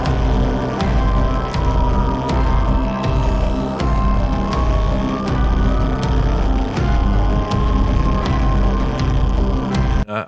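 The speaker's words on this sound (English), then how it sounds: "I use a tube to accentuate a tom-tom rhythm and it sounds like this." A PVC drain pipe struck as a tube to accentuate a tom-tom rhythm within a dense mixed music track, steady regular low thumps under a loud, continuous full-band texture.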